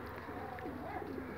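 Young racing pigeons coo softly at a loft, a faint, low throaty warble running under a steady background hum for a moment.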